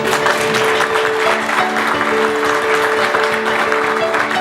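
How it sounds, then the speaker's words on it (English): Event audience applauding in tribute to colleagues who died that year, a loud continuous roll of clapping from a full room, steady throughout, with a faint sustained tone running underneath. "If you would like to join me to an applause"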